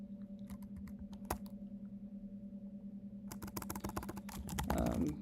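Typing on a computer keyboard during a coding session: a brief tap, then a fast clattering burst of keystrokes over a steady low electrical hum, close and moderately quiet.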